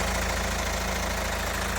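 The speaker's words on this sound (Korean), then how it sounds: "엔진 소리 너무 정말 쭉 들려드릴게요." A Hyundai Tucson ix engine idles steadily with the hood open, a loud, even mid-to-low rumble with a faint rhythmic ticking running throughout, close to the engine bay.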